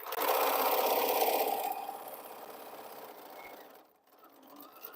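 A sewing machine runs a continuous seam through T-shirt quilt pieces, loud and steady at first, then easing off and briefly stopping before starting up again.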